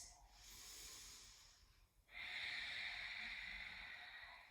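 Slow, deep breaths during a yoga hamstring and calf stretch, a long airy inhale then a stronger hissing exhale, close and alone.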